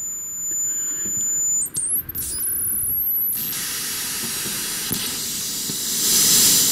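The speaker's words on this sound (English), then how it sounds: "we get quite genuinely chaotic types of noise sounds" Chaotic noise from a Serge modular synth with wave multipliers patched in a feedback loop: dense, steady hiss with high whistling tones that jump and glide in pitch, then give way to broad noise that swells near the end.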